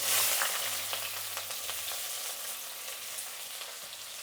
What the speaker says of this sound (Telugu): ఎర్రగడ్డ, పచ్చిమిర్చి వేసేద్దాము.